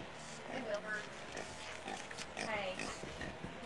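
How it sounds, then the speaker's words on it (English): Pig oinking and snorting in a barn, faint grunts scattered through a noisy, roomy background with people talking nearby. "We have Wilbur the pig and Onkette the little sister"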